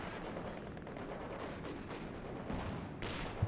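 A Vickers machine gun and a rifle grenade fire in a video game match, sounding as faint, distant bursts and a few sharp cracks over low background rumble.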